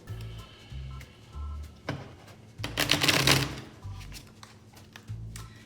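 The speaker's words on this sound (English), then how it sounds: "So I'm going to shuffle the deck a couple of times" A new, stiff deck of playing cards being shuffled for a game of cribbage: several close riffles with crisp flutters and soft thumps as the cards are squared, and no talk.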